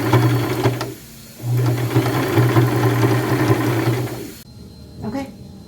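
A sewing machine runs in two long bursts of rapid, steady stitching as lace is sewn onto the top seam of an old top, pausing briefly between runs, close and fairly loud, then a short softer run at the end.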